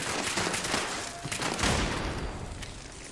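Turrets fire in Fallout 76, a rapid fusillade of sharp gunshots crackling over roughly three seconds, with some louder cracks standing out near the middle.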